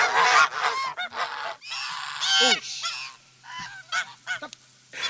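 Several geese honk loudly and close by, overlapping calls in quick irregular bursts with short gaps, no talking.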